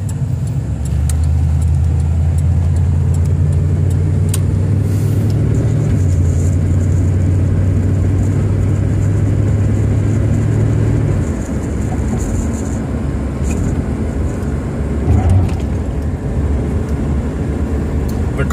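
1979 Buick Regal V8 coupe driving, heard from inside with a steady low engine drone and road rumble, loud and even, the pitch shifting as it settles into cruising.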